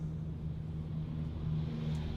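Tesla car driving under Full Self-Driving at a slow pace on a city road in Newark, NJ, giving a steady low engine and road hum with a faint drone, heard from inside the cabin with no talking.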